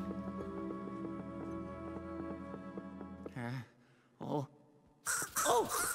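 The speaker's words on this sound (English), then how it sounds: "Oh no, the crows!" In the video game Luigi's Mansion 3, several loud cartoonish crow caws ring out in separate bursts after a stretch of tonal game music, with short gaps between calls.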